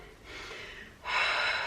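Heavy, loud breaths during a pre- and postnatal full-body workout: a long audible exhale followed by a stronger, noisier breath, close and with no talking.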